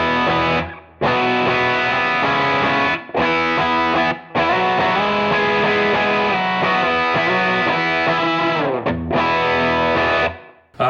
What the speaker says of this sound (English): Sounds like a Tube Screamer.